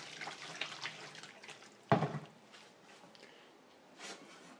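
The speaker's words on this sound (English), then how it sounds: "we'll put a bit of hot water in there" Hot water pours briefly into a container of salt close by, a short splashing gush amid quiet faucet-like trickling and faint background noise.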